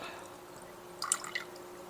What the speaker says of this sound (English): so we're going to pour this water off